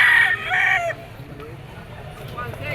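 A rooster crows among gamefowl stags at a market in Padre Garcia, Batangas, a single bright crow in the first second followed by quieter market ambience and faint background voices.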